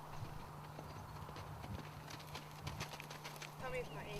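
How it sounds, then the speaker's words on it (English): Ridden horse on a farm, steady clip-clop of hooves at a walking pace, moderately distant and soft, with a voice talking over it. "both horse and rider enjoy going out for a ride"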